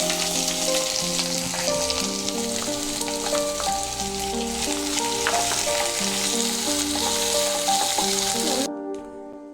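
Chopped onions hit hot oil already seasoned with mustard seeds, cumin and curry leaves for an okra egg curry, giving a steady, loud sizzle with stirring that runs for about nine seconds before cutting off.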